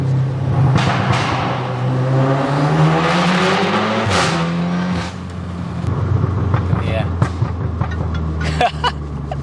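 Tuned Stage 3 Audi S3 8V with an Xforce non-resonated catback and 4-inch Trackslag downpipe, valves open in sport mode, revving hard with a loud rising engine roar and crackles, partly under talk.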